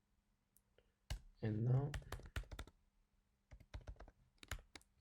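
Code is typed on a computer keyboard in quick bursts of crisp key clicks, a short flurry followed by scattered taps after a pause, with a brief voice speaking over the typing.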